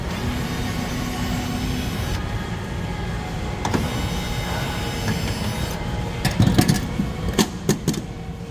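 Screws come out of a Star Trac treadmill during drive belt repair: a steady low mechanical whir runs throughout, and a few sharp clicks and rattles cluster near the end.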